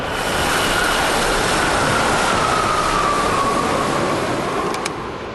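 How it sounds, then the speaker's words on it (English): A train runs on a rail test range as a loud, steady roar with a faint whining tone drifting across it, close and continuous throughout. "It's hard to stop a train."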